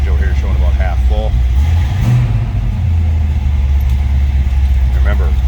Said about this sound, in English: That was a cold start, so we'll let this 302 warm up a little bit.